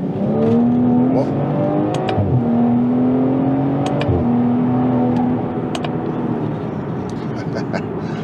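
A BMW 540i accelerates hard as its wheels spin, the engine tone rising and dipping while the traction control cuts power. It is loud and close inside the car, with a person talking over it.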